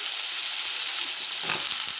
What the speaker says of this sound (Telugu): ఉల్లిగడ్డ కొంచెం వేగగానే మనము ఈ తరుక్కున్న వంకాయలు వేసేసుకున్నాం